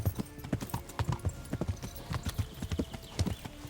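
A horse gallops in the medieval game Kingdom Come: Deliverance, its hooves pounding out a rapid, uneven clip-clop rhythm, close and fairly loud throughout.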